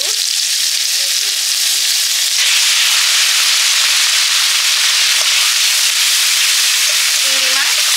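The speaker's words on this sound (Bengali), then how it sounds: "চিংড়ি মাছ একসঙ্গে ভেজে নিচ্ছি। আলুগুলো দিয়ে দিলাম।" Prawns and potatoes frying together in hot oil in a pan, a loud, dense, continuous sizzle that swells partway through and keeps crackling under faint utensil scrapes, with no voices.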